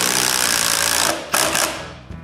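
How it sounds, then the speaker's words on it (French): A power screwdriver drives a screw into a wooden cat tree platform, a steady buzzing whir for about a second, then a few short bursts as the screw seats. "puis je finis de visser"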